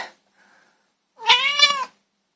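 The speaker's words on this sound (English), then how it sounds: "Just ignore the cat." A cat lets out one loud, drawn-out meow close by, after a moment of near silence with only faint background noise. No one talks.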